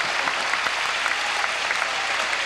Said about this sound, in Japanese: 場内から本当にこう大きな拍手をもらっています